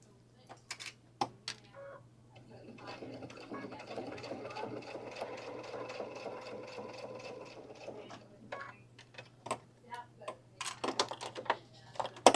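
A sewing machine stitches through thick leather for a bag, a close, steady mechanical whirr lasting several seconds, with short bursts of clicking before and after and a low hum underneath.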